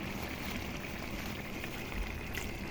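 Pure first-press coconut milk poured into a simmering vegetable stew, a steady continuous liquid pour with a faint trickle, close and unbroken, with no talking.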